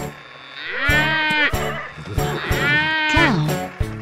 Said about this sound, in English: That's right, it's a cow.